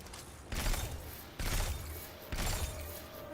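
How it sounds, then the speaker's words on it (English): Glass shattering effect from the Destiny 2 video game, in three sharp crashing bursts about a second apart, each ringing out loud over a steady game background. "Actually makes like a glass breaking sound."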